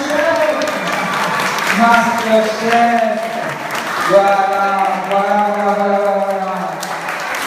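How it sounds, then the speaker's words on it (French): Spectators at a cooking contest in Bras-Panon applaud steadily in the background while someone speaks loudly over the clapping. "on les applaudit bien fort."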